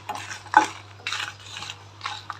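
A spoon stirs food frying in a pan, making several close scraping sweeps in irregular bursts over a low, soft sizzle.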